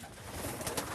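Racing pigeons in the quiet season after the competitions coo softly in a loft. The calls are faint and low, sitting beneath a steady hiss of background noise with no voices.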